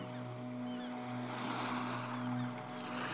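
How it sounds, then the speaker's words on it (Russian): Ocean surf washes in a steady, continuous broadband roar, with soft swells rising and falling beneath a faint sustained tonal drone, like a calm meditation backdrop. "Шум прибоя задает ритм вашему дыханию."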